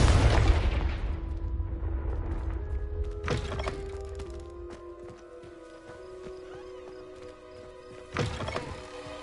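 A booming fire-blast explosion from the Confringo spell in Hogwarts Legacy, opening loud with a deep rumbling decay and ringing tones, followed by a sharper thump and a second burst near the end.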